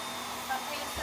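Vacuum cleaner running with strong suction, a steady loud broadband roar that holds evenly for the whole second, close by.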